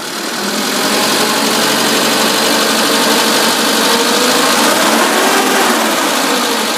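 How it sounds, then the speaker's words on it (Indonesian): A 2005 Suzuki Futura carburetor van engine revs up and holds a loud, smooth, sustained roar close by, rising at the start and staying steady. "Nah, ini saya geber, suaranya masih cukup halus juga, masih anteng"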